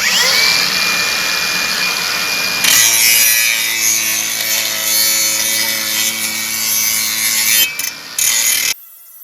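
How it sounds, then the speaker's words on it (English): An angle grinder scrapes paint off metal down to bare steel before MIG welding, a loud continuous abrasive whine that shifts pitch as the disc bites and ends abruptly. "You gotta grind the paint off of them so that's bare metal to metal touching."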